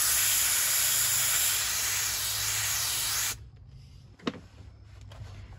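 A Harbor Freight Grant's steam cleaner blasts a loud, steady hiss of steam up close for about three seconds, then cuts off, leaving a quiet room with a faint clunk.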